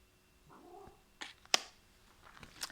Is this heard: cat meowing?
yes